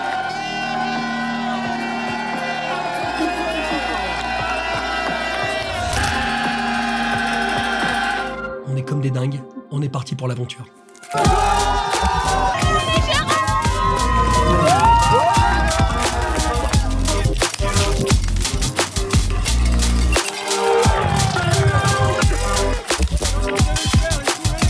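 Runners at the start line of a race shouting and a crowd cheering together, loud and dense, with excited voices clamouring over a music track and a short quiet gap near the middle.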